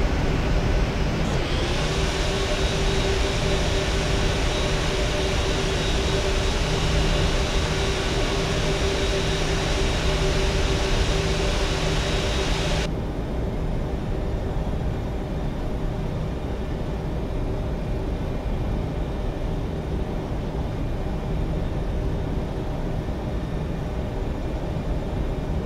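Airliner on the runway for takeoff, a steady broad engine roar with a sustained tonal whine holding loud for about half the stretch, then dropping to a lower, duller rumble that continues to the end.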